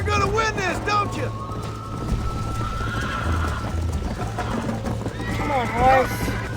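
A horse in the Red Dead Redemption video game whinnies near the start and again near the end, with steady hoofbeats and a low game hum running throughout while someone talks.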